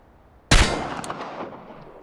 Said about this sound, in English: Better to shoot later and hit than waste bullets.